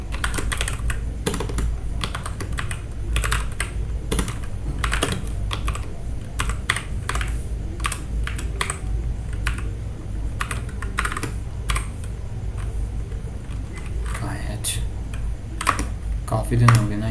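Rapid, continuous typing on a computer keyboard during a coding session, with dense clusters of sharp key clicks and occasional brief pauses, close and fairly loud throughout.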